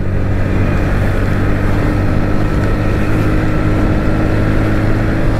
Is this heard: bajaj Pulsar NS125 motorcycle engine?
yes